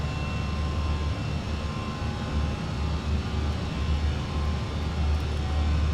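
Airbus A321 engines at climb thrust in the Fenix flight simulator, heard as a steady, loud cockpit roar and rumble throughout with no talk.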